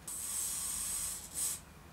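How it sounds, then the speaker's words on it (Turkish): Hair spray hissing from an aerosol can onto a hair clip, a steady close burst of about 1.3 seconds followed by a second short burst. "Tel tokanızın daha sıkı olmasını, çıkmamasını istiyorsanız kesinlikle bir saç spreyini sıkın."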